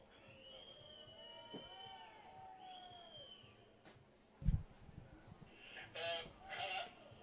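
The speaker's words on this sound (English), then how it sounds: "There's a few whistles and boos coming from the crowd." Whistles and boos rise from spectators at a world archery field championship final, thin drawn-out whistle tones and scattered jeers heard faint and distant, with a sharp knock partway through.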